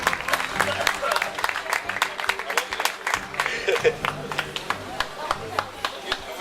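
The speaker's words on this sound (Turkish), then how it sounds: "Çok çok büyük alkışlar onlar için olsun." An audience applauds musicians at an evening performance: dense, sharp claps fill the room at a steady pace, close and lively, with crowd voices mixed in underneath.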